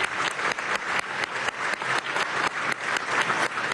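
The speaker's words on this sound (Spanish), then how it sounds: "Pido para él un fuerte aplauso" A theater audience applauds the visiting president of Turkey at the Teresa Carreño in Venezuela, a dense, steady roll of many hands clapping with rhythmic surges, fairly close and loud throughout.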